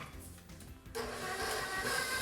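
An electric stand mixer switches on with a dough hook working dough, a sudden shift to a steady mechanical whir and rattle that continues to the end, close and moderately loud.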